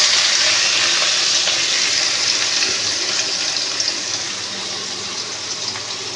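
Chopped onions hit hot oil with cumin seeds for a soy chunk curry, giving a loud, steady sizzling hiss that eases slightly as it goes on, with no voices.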